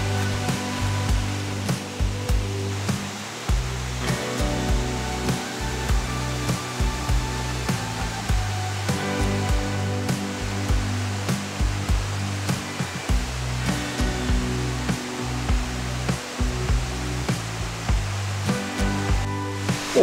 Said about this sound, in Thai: จุดนี้ก็คือน้ำตกแล้วนะฮะโหสวยมากมายเลยครับผม